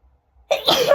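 A single sudden sneeze bursts out after half a second of near silence, loud and close, with a breathy, noisy spread ending the clip.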